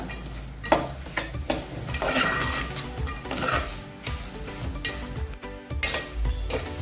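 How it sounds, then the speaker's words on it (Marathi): Cashews and almonds sizzling in ghee for prasad sheera, stirred with a spoon scraping the pan. The sound is a steady frying hiss broken by repeated scraping and clinking strokes, with no talking. "तर आता याच्यामध्ये आपण काजू बदाम टाकून घेऊया"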